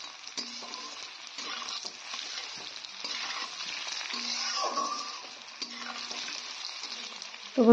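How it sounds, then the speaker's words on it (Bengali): Potatoes sizzle and fry in hot oil with cumin seeds in a pan, a continuous close crackle broken by a few stirring scrapes and brief pauses. "এবার আলুগুলোকে ভেজে নেব।"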